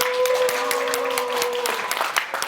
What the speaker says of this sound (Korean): 사회자를 큰 박수로 맞이해 주시기 바랍니다